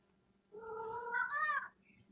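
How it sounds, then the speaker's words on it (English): A house cat meows for its dinner, one drawn-out, rising and falling meow lasting just over a second, soft and fairly distant, with no talking over it. "Whose cat is that?"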